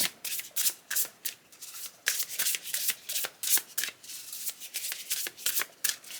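Oracle cards being shuffled close up in quick repeated riffling bursts with brief pauses, soft papery rubbing between them, no talking.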